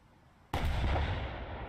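A single naval gun blast in the War Thunder game, a US Navy ship firing once, the sudden loud boom erupting after a quiet lull and rumbling on without fading.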